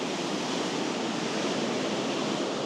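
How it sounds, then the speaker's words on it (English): Ocean waves crash on the Spanish coast near a parked camper van with its door open, giving a steady, dense roar of surf with no breaks and no voices. "we can enjoy the sound of the crashing waves"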